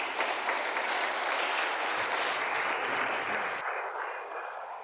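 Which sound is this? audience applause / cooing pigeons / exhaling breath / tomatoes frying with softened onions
audience applause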